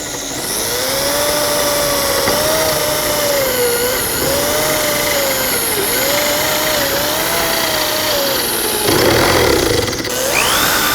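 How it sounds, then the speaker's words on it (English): A power drill whines steadily for several seconds as it drills straight into the wood of a rocking chair's front leg, its pitch dipping and rising in repeated cycles as it bites in, then a brief louder burst near the end. "we're just going to drill straight in."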